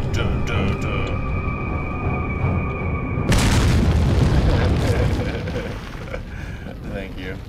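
Grenade explosion in Resident Evil 4, a loud broadband boom bursting in midway after a tonal musical passage, then rumbling and crackling debris fading out, with talk around it.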